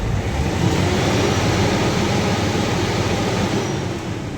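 The diesel engine of a Howo 380 transit mixer truck with a low-power problem runs loud, dense and rumbling at close range, holding steady with no voices over it.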